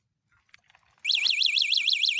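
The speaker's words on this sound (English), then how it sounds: "if somebody tries to move it, the alarm goes off" After a few faint rustles, a folding e-bike's loud anti-theft alarm starts up, wailing in a rapid rising-and-falling warble and continuing steadily.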